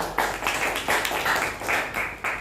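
Students in a classroom clap for a classmate's answer, a loose burst of hand claps with uneven rhythm, fairly close and moderately loud.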